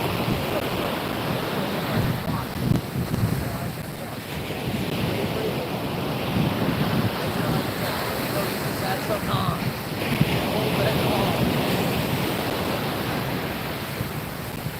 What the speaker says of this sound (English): Those are the waves.